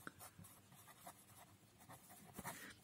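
A pen writes an algebraic expression by hand, faint scratchy strokes coming in short irregular bursts, close and very quiet.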